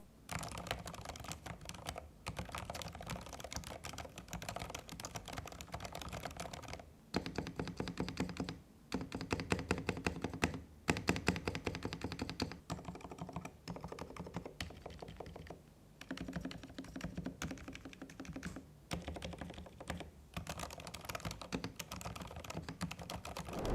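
Typing on a Hator Rockfall Mecha TKL 2 mechanical keyboard with linear switches: rapid, close clacking keystrokes in bursts separated by short pauses, with occasional heavier thunks.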